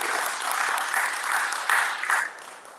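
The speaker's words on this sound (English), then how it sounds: "Let's give Michelle another round of applause." Sustained audience applause from a lecture crowd fills the room evenly, with scattered sharper claps, then begins to fade near the end.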